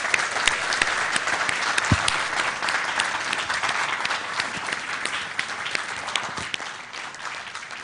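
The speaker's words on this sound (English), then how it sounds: "a round of applause for the father" A religious gathering's audience gives a sustained round of applause for a priest at an Eid Mubahila event, a dense continuous wash of many hands clapping, loud and steady with no talk over it.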